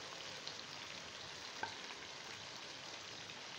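Tomatoes and green chilies frying in a karahi for mutton karahi, giving a faint, steady sizzle with a few small clicks of stirring.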